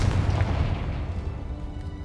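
A booming, rumbling fire-spell explosion from the Hogwarts Legacy video game, loud and dense, fading slowly over about two seconds.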